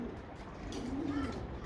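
Racing pigeons coo softly by their loft in a small backyard, giving a low, rolling call over steady outdoor background noise.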